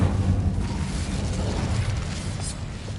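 Incendio fire spell cast in Hogwarts Legacy, a brief, low, rumbling whoosh of flame that bursts close by and holds steady for a few seconds.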